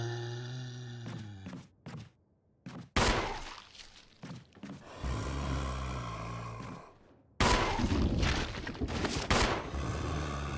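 Gunfire in the survival horror game Resident Evil 1, several sharp loud shots spaced apart with echoing tails and thuds between them, no talking.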